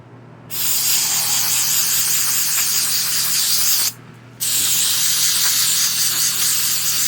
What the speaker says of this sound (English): You can rinse this off with carb cleaner or brake cleaner.